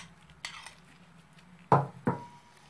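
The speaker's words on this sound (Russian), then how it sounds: "Затем высыпем наш лучок. И все это хорошенечко мы перемешаем." A utensil knocks twice against a pan while chopped onions are stirred into soy meat and carrots, two short close clatters following a faint scrape.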